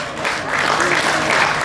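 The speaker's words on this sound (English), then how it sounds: "Give them a big round of applause." Audience applause at a stage show at the 2018 Nebraska State Fair, a full, continuous crowd clapping that swells slightly and holds steady, with no voices over it.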